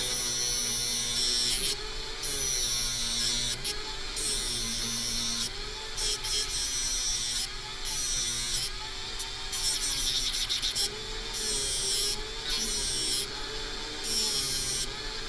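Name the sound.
sanding metal for a necklace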